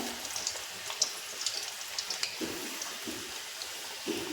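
Modak dumplings frying in hot oil over a medium flame, a steady crackling sizzle dotted with small pops.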